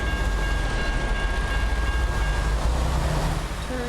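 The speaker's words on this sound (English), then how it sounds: "Longest train." A long train rolls past close by in a steady, dense roar of wheels and cars that holds without a break, with no voices over it.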